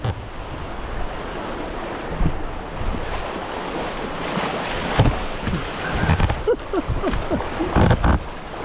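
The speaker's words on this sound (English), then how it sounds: "we're coming up on our first little rapid of the day" Water splashing through small river rapids with sporty wave trains, heard from an inflatable kayak amid steady wind noise and irregular close splashes.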